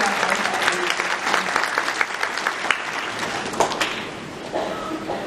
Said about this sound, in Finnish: Hienoa aplodeita sinne